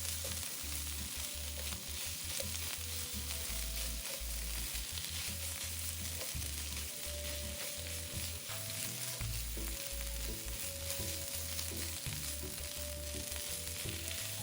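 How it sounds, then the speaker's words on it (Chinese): Sweet potato and bamboo shoot filling with seasonings stir-fried in a pan: a steady close sizzle runs throughout, broken by frequent scraping spatula strokes and low clatter, continuous with no voices. "继续将食材与调味料拌炒均匀"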